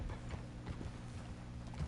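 Horse hooves clip-clop steadily in Red Dead Redemption 2, a quick, even rhythm of close, fairly quiet hoofbeats with faint rattling mechanical noise running underneath.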